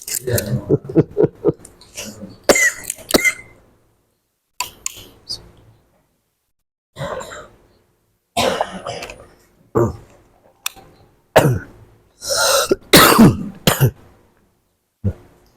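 Several bursts of coughing and throat clearing come in irregular clusters separated by silences, close to the microphone.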